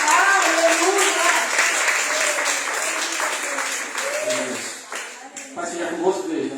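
Congregation applauding in church, a continuous mass of clapping with voices calling out over it, thinning toward the end.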